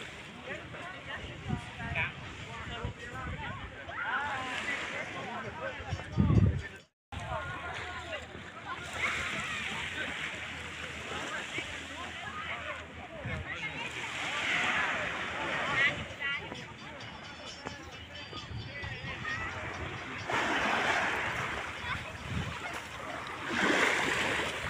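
Waves wash steadily onto a white sand beach at Coral Island, Pattaya, a continuous surf and sloshing rush with small boats nearby, while people talk over it throughout.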